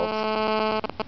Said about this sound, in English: Just ringing, and ringing, and ringing, and ringing.